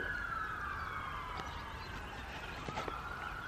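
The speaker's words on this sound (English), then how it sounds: "Not the sirens, that's just typical around here really" A police siren wailing far off in a town while out on a bike ride. The tone sweeps steadily and sounds faint against low background noise.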